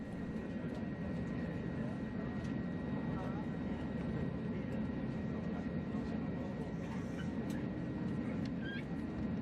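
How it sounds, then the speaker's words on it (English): Inside the cabin of an Airbus A321 airliner, the low engine drone is steady and constant as the plane pushes back and taxis toward the runway, with faint cabin sounds and voices underneath. "We eventually pushed back 45 minutes late and headed for runway 5 left"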